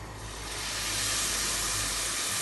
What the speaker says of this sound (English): let's add some white wine and turn the heat up a bit now